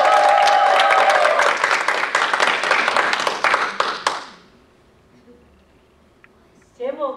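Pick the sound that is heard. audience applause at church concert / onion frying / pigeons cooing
audience applause at church concert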